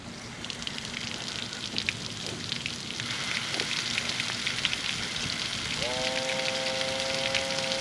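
Rain patters steadily around an abandoned 2008 Lund Explorer 1825 SS boat, a soft continuous hiss of drops that grows slightly louder, with a brief tonal whine near the end.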